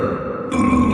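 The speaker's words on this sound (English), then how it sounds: "This calls for a burp joke." A single low, guttural burp, loud and close, stretching for about a second with a rough, croaking texture.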